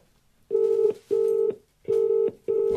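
Telephone tones sound while someone dials the police: four loud, steady, evenly spaced beeps, each lasting under half a second, close and clear with no talking.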